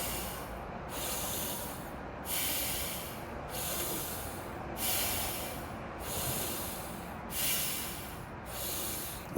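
Rapid exaggerated qigong breathing: a steady run of forceful nasal inhales and exhales, roughly one cycle every second and a half, close and breathy, with no talking.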